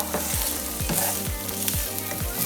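Onions sizzling and frying in a pan for a Mexican dish, a steady crackling hiss with repeated scraping stirs at a regular pace, close and moderately loud with nothing else over it.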